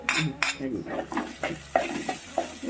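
A spoon clatters and scrapes against a pan while fish biriyani masala with ginger-garlic paste is stirred, sharp irregular knocks over a soft sizzle, close and fairly loud.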